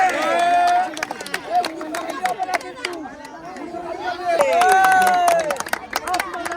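Crowd at a village bamboo strength contest, with hands clapping amid lively chatter and shouting voices; whistle-like cheers rise near the start and again later over steady babble.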